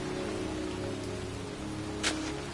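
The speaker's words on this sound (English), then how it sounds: "standing in a cemetery in pouring rain" Pouring rain falls steadily across a cemetery in the video game Heavy Rain, a dense, even hiss with a brief louder splash near the end.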